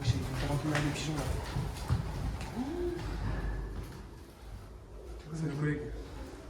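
Pigeons coo softly inside an abandoned nursing home, a few low warbling calls amid footsteps and echoing room noise, with people talking nearby.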